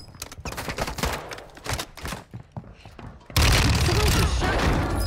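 Gunfire in the Warzone 2 video game, with rapid bursts of shots and thuds that end in a loud, sustained blast of fire, while a player talks over parts of it.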